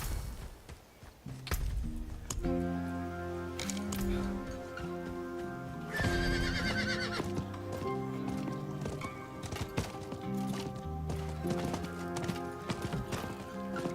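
Horse hooves clip-clop at a steady gallop in the Diablo 4 video game, with an occasional neigh, all set against a continuous orchestral game soundtrack.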